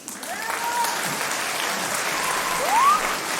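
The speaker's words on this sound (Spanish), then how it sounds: "Aplausos y ovación." Steady applause and ovation from an audience, a dense continuous clapping wash that swells slightly toward the end, with no voices over it.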